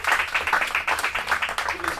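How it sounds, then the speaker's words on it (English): An audience applauds at a live real estate event on a yacht in Dubai, a short burst of steady, close clapping with a voice talking over it. "Round of applause for him."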